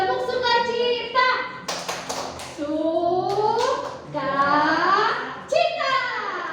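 Young children in a small church Sunday school class sing the rhythmic tepuk sukacita clapping chant, voices rising and falling in a sing-song melody punctuated by a few sharp hand claps.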